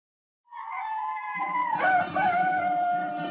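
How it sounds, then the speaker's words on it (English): A rooster at a mission in the Amazon crows once, a single drawn-out call rising and wavering, clear and fairly distant against silence. "And then the sound of the crowing of a cock, the cock at the mission."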